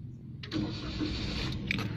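A car engine cranks and catches after a single ignition key turn, a short starter whir rising into a steady idle rumble, close and moderately loud with no talk.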